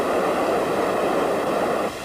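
The Gavarnie waterfall, Europe's highest at 423 metres, crashes onto rocks in a limestone amphitheatre, producing a dense, steady roar of falling water that stays loud and unbroken throughout.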